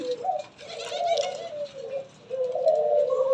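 Doves cooing on a dove farm, several soft low repeated coos close by, one call following another with brief pauses, over faint background chatter of other birds.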